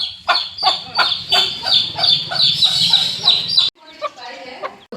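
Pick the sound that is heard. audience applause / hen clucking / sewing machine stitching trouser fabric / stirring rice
hen clucking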